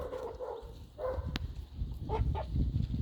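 Chickens cluck and scratch about nearby while eating thrown soft dates, with soft pecking and rustling sounds and brief clucks rising over a noisy outdoor background.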